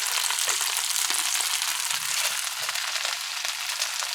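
Chicken fried rice with five-spice seasoning frying in a pan, a dense steady sizzle with occasional soft stirring scrapes, close and continuous throughout.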